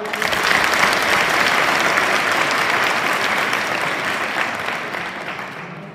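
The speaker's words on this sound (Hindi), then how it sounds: "खड़े रहो, बजाओ जोरदार ताली" A crowd at a college poetry recitation event in Asind stands and applauds loudly, a dense, sustained clapping that fills the room for about six seconds and eases slightly toward the end.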